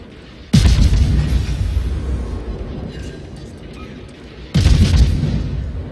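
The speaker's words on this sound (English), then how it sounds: "so I switched back to HE to try and start a fire, doing more damage" Two heavy booming blasts of naval guns firing HE shells in the World of Warships game, each a sudden loud hit followed by a long rumbling tail, about four seconds apart with a voice speaking underneath.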